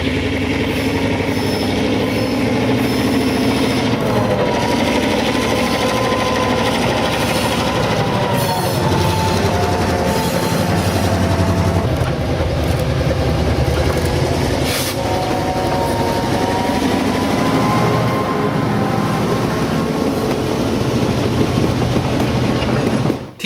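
A continuous rumbling simulated diesel locomotive engine drone from a TCS WOW Sound decoder in an O gauge model train, pitch shifting as the load changes, with faint rail clatter and squeals, loud and steady.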